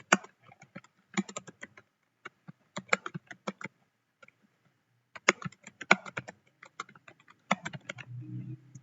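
Typing on a computer keyboard while entering text into an Excel spreadsheet, with bursts of quick close key clicks separated by short pauses and a brief low rumble near the end.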